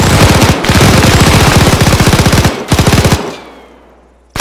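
Sustained machine gun fire in a video game, loud rapid automatic bursts hammering steadily with short pauses, then trailing off into a decaying echo before one final shot; no talking over it.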